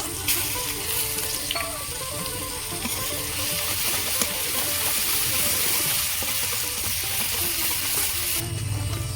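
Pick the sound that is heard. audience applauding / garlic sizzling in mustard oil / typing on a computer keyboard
garlic sizzling in mustard oil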